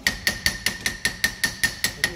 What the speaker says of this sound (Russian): Что там молоток детский?